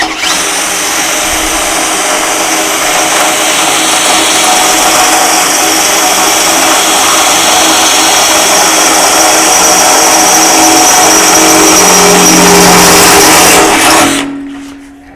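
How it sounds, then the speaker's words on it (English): A power drill on a Shopsmith boring into metal while replacing casters, a loud sustained high whine that holds steady for most of the time and then winds down near the end. "So let me again come through and drill those."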